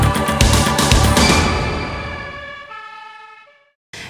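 A Maroshegy fire brigade engine from Székesfehérvár pulls out with its siren blaring, loud and close at first, then wailing steadily as it fades away before the sound cuts off.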